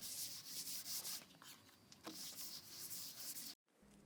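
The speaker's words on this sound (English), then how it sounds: "now I'm using a 2000 grit to wet sand" Close, steady rubbing strokes of 2000-grit wet sandpaper working over sprayed clear coat on a stained epoxy river coffee table, a continuous hiss broken by short pauses before it cuts off near the end.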